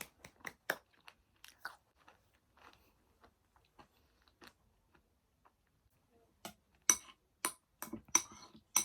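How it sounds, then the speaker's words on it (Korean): Close, crisp crunches come from someone chewing a yogurt bowl mixed with fresh water dropwort (minari). The bites come in irregular clusters, separated by quiet pauses, and quicken toward the end. "제가 루꼴라가 없으니까 미나리를 이렇게 넣어서 요거트볼에 먹어요"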